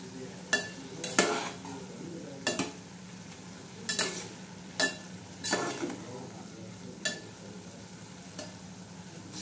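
Spinach and moong dal bhaji gets stirred in a pan, with a series of separate scraping, clattering strokes of the spoon over a faint sizzle, spaced irregularly and heard close up with no talking.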